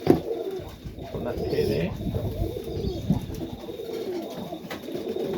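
Pigeons in a loft coo in soft, repeated low murmurs close by, with someone talking over them and a few brief rustles.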